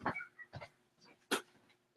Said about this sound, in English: I'm gonna have to get my dog.